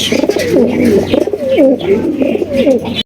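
Pigeons coo close by, loud rolling throaty calls repeating in a steady rhythm.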